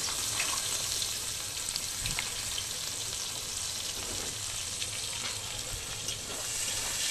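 Onions fry in oil left over from browning ginger and garlic, producing a steady, fairly faint hissing sizzle with a few light clicks and no talk.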